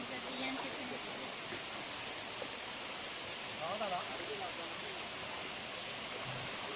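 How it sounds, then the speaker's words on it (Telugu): Pangidi Madaram waterfall near Asifabad, water dropping from above onto rocks, a steady broadband rush that holds at an even level throughout, with faint voices in the background. "ఇక్కడ పైనుంచి వస్తున్నాయి వాటర్."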